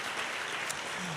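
A church congregation claps together, a dense, steady burst of applause filling the room for about a second.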